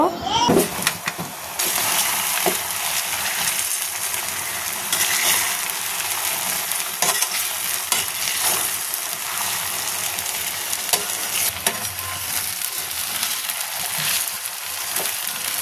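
Sun-dried green mango pieces are stirred through hot spiced oil for a sweet-sour pickle, giving a steady, close frying sizzle with scraping stir strokes throughout, no voices.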